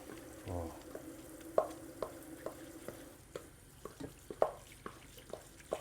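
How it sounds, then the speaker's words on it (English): Food sizzles and crackles in a hot cast iron skillet with bacon fat, a soft continuous fry punctuated by clinks of a utensil stirring, with little talk. "I'm going to put this in this cast iron skillet that has been heating in the oven in some of this bacon fat"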